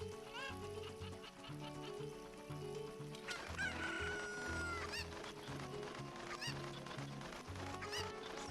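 Chicken clucks and squawks from the Ship of Harkinian game sound quietly over a looping game music track, with a voice speaking briefly.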